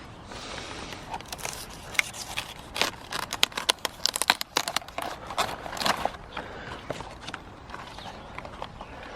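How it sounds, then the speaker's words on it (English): A knife cuts the top off a minicole cabbage during a garden harvest of fruit and salad crops, giving a close series of crisp snapping crunches and leafy crackles that cluster in the middle of the clip. "What I'm going to do is just cut the top off."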